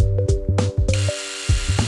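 A power drill at work in the Urban City Stories game, loud and close, with repeated mechanical bursts and tonal whirring and a high-pitched stretch of drilling in the middle. No voices.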